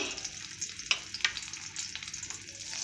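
Mango pieces fry in mustard oil in a pan with a steady, moderate sizzle, broken by a couple of sharp metallic taps from a stirring utensil.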